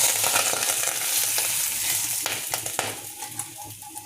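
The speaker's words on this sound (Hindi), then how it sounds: "तकरीबन 1 कप घी है, वो मैं इस पर डाल देता हूँ।" About a cup of hot, well-cooked ghee poured over mewa chana pulao, a rice dish with dried fruit and chickpeas, sizzling in a steady hiss with a few sharp clicks and crackles near the end.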